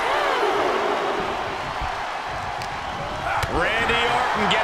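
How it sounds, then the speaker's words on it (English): Loud, continuous roar of a wrestling arena crowd in WWE 2K23 during a SummerSlam Iron Man match between Randy Orton and Miles, a dense cheering wash under a commentator's voice throughout. "The sound of this crowd is deafening"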